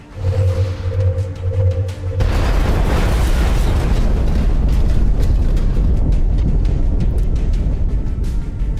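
A rocket explosion in the video game XCOM, a loud sudden blast that cuts off a low hum and leaves a long rumbling, crackling roar.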